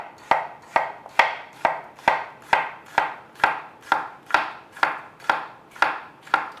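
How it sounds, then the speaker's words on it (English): A knife chops food on a cutting board in an even, steady rhythm of about fourteen crisp, close, loud strikes, with no voices. "we're just gonna go ahead and give it a little chop."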